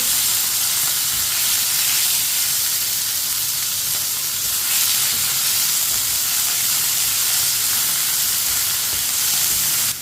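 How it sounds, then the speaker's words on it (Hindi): Chicken pieces hiss and sizzle steadily as they hit a hot pan for chicken macaroni and are mixed, a loud, continuous frying crackle with no voices. "चिकन डाल लेंगे, मिक्स कर लेंगे।"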